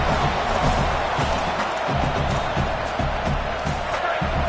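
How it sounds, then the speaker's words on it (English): A stadium crowd at an American football game roars in a steady, dense wash of noise, with thumps and swells running beneath it throughout. "The roar of the crowd trying to fuel this defense to keep them pinned in their own end"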